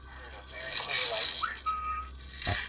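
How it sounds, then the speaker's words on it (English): A faint, thin whistle rises briefly through a steady electronic hiss, soft and distant, with a short click near the end. "this next one is a definite whistle"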